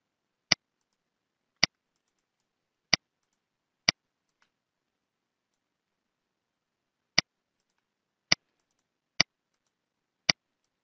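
Single sharp computer mouse clicks sound close and alone in near silence. Four come evenly spaced, then a pause, then four more.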